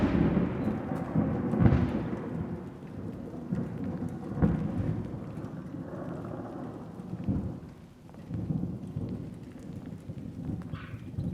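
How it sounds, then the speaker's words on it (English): Thunderstorm with rain in Colorado: a steady hiss of rainfall spattering on surfaces, with deep rolling thunder that swells and fades several times, fairly close and loud, and no voices. "We had one really bad thunderstorm yesterday. I'll play some audio from that now."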